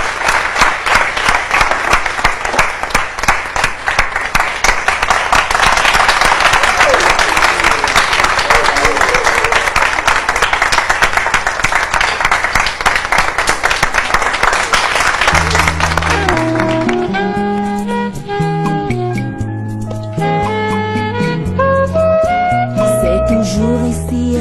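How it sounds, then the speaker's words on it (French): A crowd applauds loudly and steadily for about fifteen seconds, a thick wash of clapping that gives way to tonal music once it fades. "Applaudissez."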